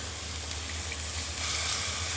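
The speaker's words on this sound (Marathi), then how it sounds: "आता ह्याच्यामध्ये ते जे आपण सूप करून ठेवलेलं ते टाकायचं." Prepared soup is poured into a hot pan of crab curry, producing a steady, close sizzle and hiss that runs unbroken throughout with a low bubbling rumble beneath and no talking.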